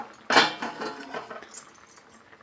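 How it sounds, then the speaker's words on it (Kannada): A spoon stirring avalakki payasa, a sweet flattened-rice pudding, in a metal pot: one bright clink of metal followed by a few soft scraping and tapping sounds, close and fairly quiet. "ಈಗ ಒಂದ್ಸತಿ ಈ ಥರ ಚೆನ್ನಾಗಿ ಮಿಕ್ಸ್ ಮಾಡ್ಕೊಂಬಿಡೋಣ"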